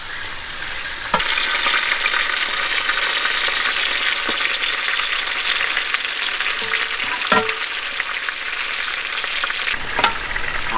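A giant catfish head fries in a pot of oil outdoors in a village, with a loud, steady, dense sizzle that never stops and occasional stirring knocks close by.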